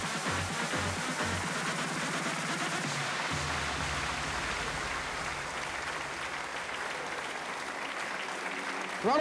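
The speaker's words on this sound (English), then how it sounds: "Round of applause from the backside." At an apparel graduation day awards ceremony, the audience claps in steady, full applause that carries on for several seconds, with some crowd voices and low background sounds mixed in.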